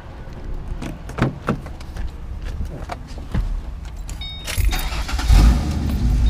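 Ford Mustang V6 engine cranks and catches at close range after door and key clatter, then settles into a low steady idle rumble with no talk over it.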